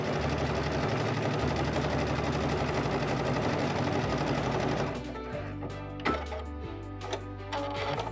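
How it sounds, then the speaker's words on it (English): A Baby Lock Destiny sewing machine with digital dual feed couches decorative yarn, running in a steady close whirring stitch that later breaks into shorter bursts with small clicks and pauses. "Couching over your favorite decorative yarns and threads is easy with the digital dual feed on the Baby Lock Destiny."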